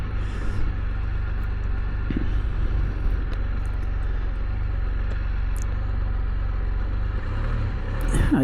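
A Spyder three-wheeled motorcycle riding along, its engine a steady low rumble with wind and road noise throughout, no talking.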